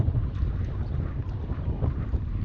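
Strong wind buffets a Dufour 375 sailboat in harbour, a steady roaring, gusting rush with low rumble throughout, loud and close, with no voices.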